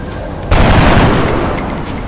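A burst of gunfire from XCOM: Enemy Within erupts after a half-second lull, one loud blast of overlapping shots that fades into a lingering rumble.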